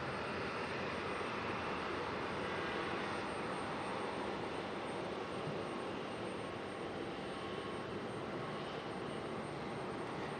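A jet airplane departs Raleigh-Durham International Airport, heard as a steady, distant broadband roar that holds for the full length with no other sounds.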